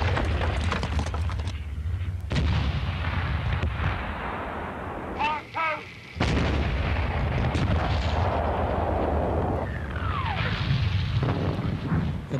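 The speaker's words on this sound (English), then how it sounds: "pound the German line for 7 days with the biggest artillery barrage of the war so far" A World War I artillery barrage pounding German trenches, a dense, continuous roar of heavy gunfire and booms that fills the clip, broken by a brief lull partway through before the rumbling bombardment resumes.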